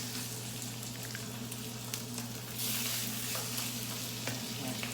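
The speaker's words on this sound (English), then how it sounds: "so my frying pan's hot. I got my chicken thighs here. I'm going to put them skin side down." Seasoned chicken thighs sizzle skin side down in a hot frying pan, a dense, steady crackle of frying fat that swells slightly louder partway through, close and continuous with no talk.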